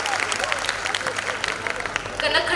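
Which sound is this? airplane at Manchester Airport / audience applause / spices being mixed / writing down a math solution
audience applause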